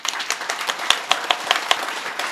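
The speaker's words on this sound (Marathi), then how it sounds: "एकदा टाळी वाजवा बरं" Audience clapping at a Marathi kirtan in Nanded, a scattered burst of individual hand claps with uneven rhythm, moderately near and not very loud, with no talk over it.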